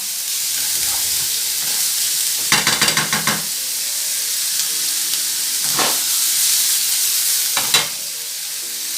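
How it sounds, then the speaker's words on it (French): Meat sizzles steadily as it browns in a pan for a carbonara pasta, a loud continuous frying hiss broken by a few bursts of clattering stirring. "on va laisser frémir la viande comme ceci jusqu'à ce qu'elle colore."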